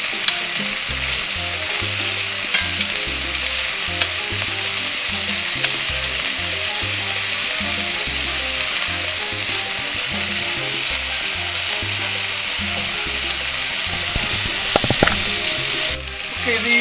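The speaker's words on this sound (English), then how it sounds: "we're just really going to try to get a little sear on them" Steak strips searing in a hot pan for fajitas, a loud, continuous sizzle with the scrape and rustle of stirring throughout, heard up close for a long stretch.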